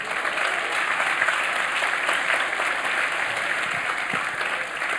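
Steady, dense applause from a church congregation at a Videira Lisboa service fills the room for the whole stretch, close and even, with no voice rising above it.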